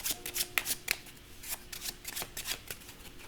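A deck of playing cards is shuffled during a magic trick, giving quick papery riffles and bursts of flicking cards in an irregular rhythm, close and fairly quiet with no talking.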